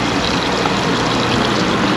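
Water gushes from a Euro Relais service point tap into a toilet cassette, a loud, steady, hissing pour that fills the whole moment without pause.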